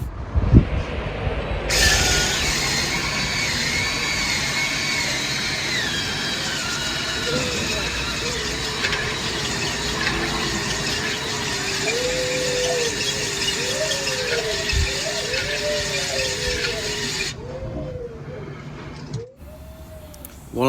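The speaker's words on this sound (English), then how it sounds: "I'm sort of spinning it up and down with my drill to try and get it to clean up" A power drill whines steadily, spinning a glaze-busting tool in the cylinder bore of a large AEC diesel engine on a 1976 Coles crane, with a high, sustained squeal, while faint rising and falling tones drift underneath; it stops abruptly near the end.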